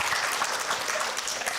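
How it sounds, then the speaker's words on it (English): Applause from a quiz audience at a hematology-oncology fest, a steady dense wash of clapping with no pauses, filling the short moment alone. "A round of applause for them."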